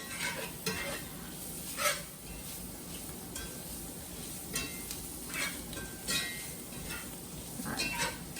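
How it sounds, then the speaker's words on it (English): Flour and butter being whisked into a roux for country gravy, a quiet soft sizzle with recurring brisk scraping strokes and light metal clinks against the pot. "And we're supposed to whisk this until it sort of forms a paste."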